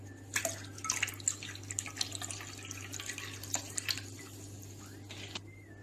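Club soda pouring into a coconut water mint mojito glass over ice and fresh mint, a soft fizzing, dripping liquid sound with light clinks, close and fairly quiet.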